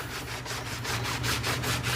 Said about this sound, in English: Rubbing a shoe back and forth